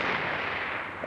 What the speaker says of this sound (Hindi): ये बम की आवाज थी मुझे लगता है।